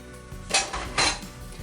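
Thawed whole spinach leaves dropped into a small saucepan with a little oil, giving two soft clattering bursts of contact against the pan over a quiet kitchen background.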